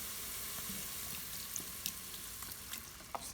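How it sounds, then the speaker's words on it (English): Beef stock poured over onions and bell peppers cooking for chili, giving a steady close sizzle and bubbling hiss with a few faint clinks and splashes near the end, no talking. "I'm gonna add a little bit of beef stock just to help really cook those down."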